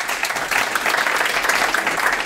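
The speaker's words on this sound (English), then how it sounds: "Thank you for the applause." Audience applause for a guest speaker coming up at a medical sales college, a loud, dense wash of clapping that stays steady throughout without talk.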